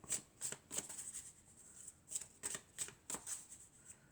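Elf oracle cards shuffled in the hands, quick papery riffles in short bursts separated by brief pauses, quiet and close, no speech.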